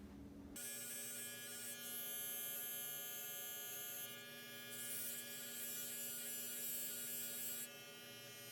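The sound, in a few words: electric hair clippers cutting a fade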